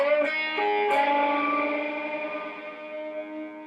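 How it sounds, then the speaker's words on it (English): A sustained distorted electric guitar note bends upward in pitch, its wobble settling as it rings out with echo and effects, no voices. "you're bending it up until you kind of hear the notes stop kind of wobbling or shaking"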